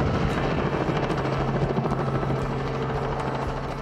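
A helicopter carrying rescued animals flies close by, its rotor producing a loud, steady, thudding drone that holds continuously throughout with no voices.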